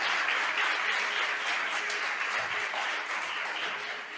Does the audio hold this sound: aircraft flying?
no